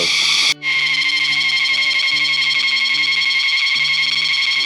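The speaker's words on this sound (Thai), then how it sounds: "ตรงนี้เสียงจิ้งหรีดเยอะมาก" Insects chirp densely and continuously at night along a steep mountain trail up Phu Kradueng, a bright, steady pulsing trill that fills the scene, with a lower repeating tonal call beneath it.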